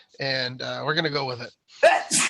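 A single sharp sneeze bursts out right after a short stretch of talk between players during a trivia game show.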